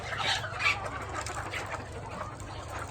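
Desi village chickens at a poultry farm in Bhiwandi, India, cluck and murmur close by in a quiet stretch, several soft calls overlapping with no talking.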